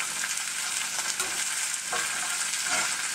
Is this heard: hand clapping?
no